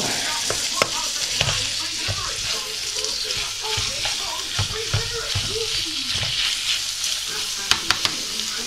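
Tomato puree being stirred and worked around a hot frying pan for moussaka, a steady close sizzle broken by irregular scraping and stirring knocks throughout.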